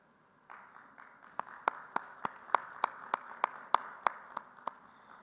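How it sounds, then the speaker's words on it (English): Applause at a government industry meet starts up after a quiet moment. A few sharp, distinct claps ring out over a thin bed of clapping, fairly sparse and modest in volume, lasting several seconds. "let us please say thank you to all of them with a huge round of applause"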